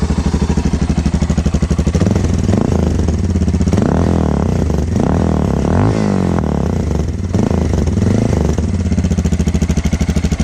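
A DR motorcycle engine runs close by with a loud, rapid, throbbing idle, with a few brief revs rising and falling along the way.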